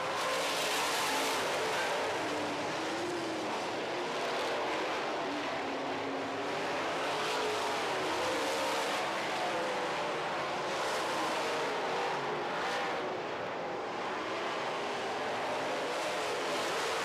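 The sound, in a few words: late model race cars racing on dirt track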